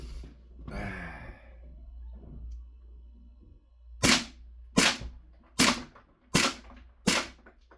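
A DUKE CO2 pepper ball launcher fires five sharp, punchy pops spaced under a second apart after some heavy breathing, each shot close and loud against an otherwise quiet background.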